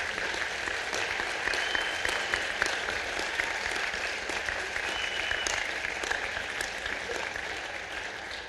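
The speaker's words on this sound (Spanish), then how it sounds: "Y un aplauso para Daniela López." Steady audience applause at a book launch for the book "Con Fines de Lucro", honoring Daniela López, a former student president of Universidad Central; dense clapping holds evenly throughout, moderately distant and without talk.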